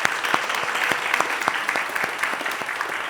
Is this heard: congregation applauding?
yes